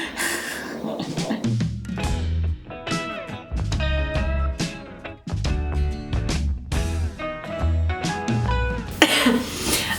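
A person coughs a few times after running outside in the cold, short harsh throat bursts heard near the start and again at the end over steady background music.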